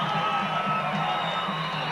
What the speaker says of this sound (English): the crowd now comes alive as Johnny Tapia comes into the ring